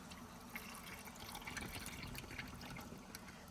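Brine being poured into sterilized wide-mouth canning jars for pickled beets, a soft, faint trickling and splashing of liquid heard up close in a quiet kitchen.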